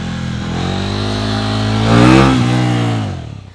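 Big cc motorcycle engine held at a steady rumble, then blipped with a brief rising rev at a wheelie landing before settling back, close and loud.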